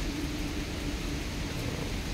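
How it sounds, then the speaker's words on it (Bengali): Heavy monsoon rain falls on a rainy day at New Delhi Airport, a dense, steady roar of rainfall that holds constant and close throughout. "খুব সুন্দর শ্রাবণ মাসের বৃষ্টি, যেটা চারিদিকে সবুজ আর ঝমঝমিয়ে বৃষ্টি হচ্ছে"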